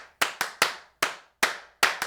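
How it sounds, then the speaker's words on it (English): Sampled claps in a MIDI drum mix, seven sharp dry hits in an uneven rhythm, close and clean with silence between them. "with our claps"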